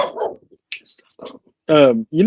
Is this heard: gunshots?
no